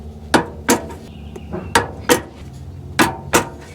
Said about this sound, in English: Now I've got this bit torque wrench that I'm going to use.